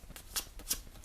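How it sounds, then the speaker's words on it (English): A rifle bullet tip, for 6.5 Creedmoor or .308, being rubbed with wet-and-dry emery paper, giving faint, close, rhythmic scratchy strokes about three times a second. "now all I do is get a bit of emery, wet and dry emery paper,"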